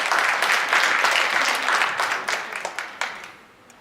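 A church congregation applauds a pastor at a prayer meeting, with vigorous group clapping that holds steady, then thins into a few separate claps and fades out.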